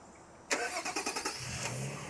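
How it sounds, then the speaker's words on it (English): A Nissan Armada engine remote-starting: a crank begins at about half a second with a quick series of rhythmic pulses, then settles into a steady mid-pitched idle, close and clear with no talk. "Then you're going to push and hold the top circle button for a few seconds."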